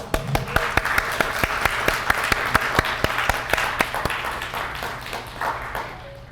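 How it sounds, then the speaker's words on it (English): An audience at an evening lecture claps in sustained applause welcoming a speaker, with a few sharp individual claps standing out, fading toward the end. "please welcome him with a warm round of applause"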